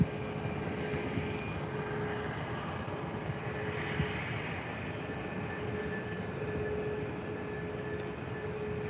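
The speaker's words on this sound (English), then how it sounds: "So here is the Eurowings A320" A Eurowings Airbus A320 airliner at Faro Airport, heard as a steady, moderately distant engine drone with a faint tonal whine, holding level throughout without pause.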